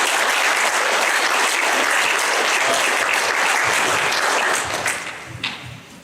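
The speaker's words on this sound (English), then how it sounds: "give a round of applause for my wife real quick." Loud, dense audience applause in a speech hall, sustained clapping that fills the room before thinning out and fading near the end.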